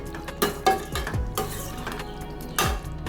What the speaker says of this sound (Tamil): இது எல்லாமே நல்லா மசாலாவோட வர்ற மாதிரி கிளறி விட்டுக்குவோம்.